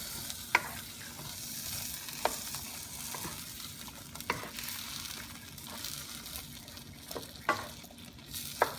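Eggplant cooking in a pan, a constant quiet sizzle broken by sharp clacks of a utensil stirring against the pan at irregular intervals.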